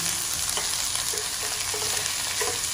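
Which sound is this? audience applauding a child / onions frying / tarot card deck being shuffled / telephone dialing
onions frying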